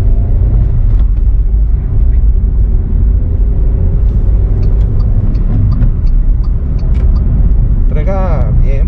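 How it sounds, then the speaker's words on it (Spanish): A 2022 Alsvin car with a manual transmission accelerates, its engine rumble steady and loud throughout as if recorded inside the cabin, with a brief voice near the end. "Voy a hacer una pequeña aceleración."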